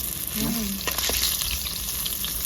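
Rohu fish pieces frying crisp in hot oil in a rustic village kitchen, a steady close sizzle with brief bubbling bursts, no voices.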